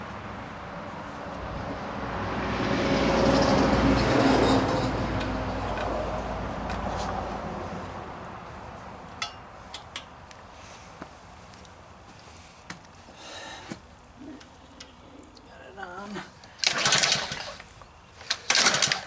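A Ryobi pressure washer engine with no compression, a spark tester attached, is cranked with a long pull-start whir that swells and fades, followed by scattered ticks and clicks and a few brief louder bursts.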